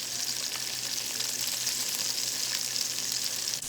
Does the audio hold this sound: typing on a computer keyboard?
no